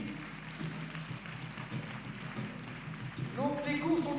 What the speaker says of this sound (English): On peut les applaudir s'il vous plaît, merci.